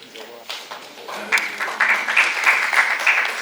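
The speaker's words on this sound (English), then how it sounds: "Please give him a big round of applause as he joins us as well." Applause from the audience at a book launch, starting light and scattered, then swelling into steadier clapping as someone joins the stage, with a voice over it.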